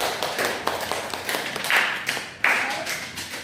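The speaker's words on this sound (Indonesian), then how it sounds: "Tepuk tangan dulu." Students clap in a classroom during a microteaching session, a loose burst of individual claps and taps, fairly close and uneven, with a couple of sharper louder claps near the end.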